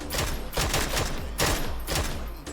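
Rapid bursts of automatic gunfire from a PUBG match, loud and continuous with repeated volleys and short gaps, dense and close in the mix.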